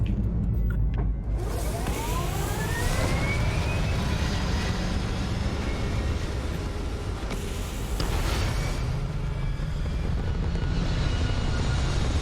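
A spaceship lifts off in the video game Starfield, with a steady loud engine roar and a rising whine that sweeps upward over several seconds, then a second surge of thrust near the end.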